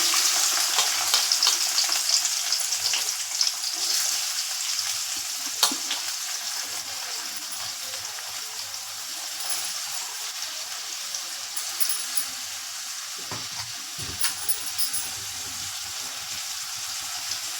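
Onions and green chillies fry in a pan as the base of a chicken gravy, a continuous bright sizzle with occasional stirring scrapes and clatter, with no talking.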